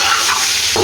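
Chicken pieces and whole spices such as cardamom are stirred in a hot pot for biryani, a loud close sizzle and hiss with a scraping stir near the end, brief and continuous.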